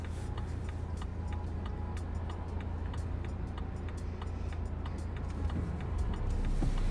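A car's turn signal ticks in a steady, evenly spaced rhythm during a driving lesson, heard inside the cabin over a constant low engine and road rumble.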